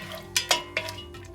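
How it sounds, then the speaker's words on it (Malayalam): Cashews are stirred in hot ghee in a pan for a Kerala-style mutton biryani, with three or four sharp, close metallic clinks of the spoon against the pan over a quiet background. "ഇതിലേക്ക് ഞാൻ കാഷ്യൂ ഇട്ട് വറുത്തെടുക്കുകയാണ്"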